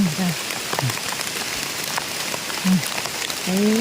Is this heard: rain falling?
yes